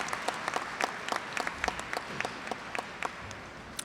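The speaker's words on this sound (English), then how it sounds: "would we like to give them all a round of applause for their Silver Life memberships?" A banquet audience claps for Silver Life members coming to the table, a moderate, somewhat distant patter of many hands with a few sharper individual claps standing out.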